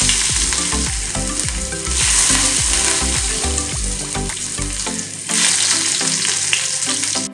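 Cumin and garlic sizzling loudly in hot oil, a dense continuous crackle with repeated stirring knocks and scrapes against the pan, close and without talk.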